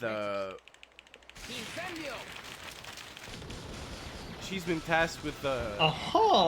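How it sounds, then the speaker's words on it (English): Boxes of fireworks set alight in the Harry Potter and the Half-Blood Prince PC game: crackling bursts and popping bangs that build into a dense, rattling fusillade, heard under continuous talk, with game music or voices at the start. "setting these boxes of fireworks on fire"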